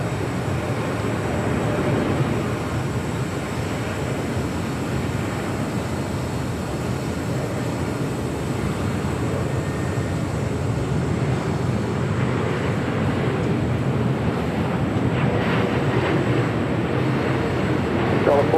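A Lufthansa Boeing 747 arrives at LAX with a continuous broad jet rumble that stays loud and even throughout, and a voice speaks over it.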